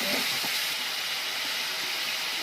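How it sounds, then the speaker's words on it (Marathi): Soaked split chickpeas (chana dal) go into a hot pan while dill greens (shepu bhaji) cook, giving a steady close sizzle and steamy hiss with a few faint clinks of a utensil. No one speaks. "आता मी हरभरा डाळ टाकणार आहे भिजवलेले हरभरा डाळ टाकणार आहे"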